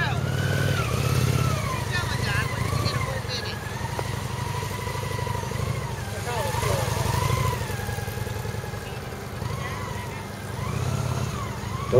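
A motorcycle ridden slowly using clutch and throttle control during a riding technique class, its engine a steady low rumble with gentle throttle swells, close by, under talk throughout.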